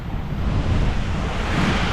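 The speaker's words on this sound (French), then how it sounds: "Il y a 20 nœuds de vent, on dirait pas comme ça" Steady wind roar and wave wash surround a sailboat racing offshore in the Transgascogne in about 20 knots of breeze, a dense continuous rush with low rumbling swells and no voices.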